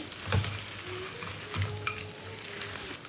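Fish and potato pieces sauté lightly in a pan, giving a soft, continuous sizzle with a few clinks and scrapes of a spatula stirring against the pan.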